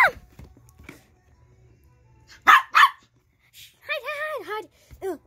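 A dog barks a few sharp times close by, two loud barks followed by a rising and falling whining yelp, with quiet gaps and brief talk around them.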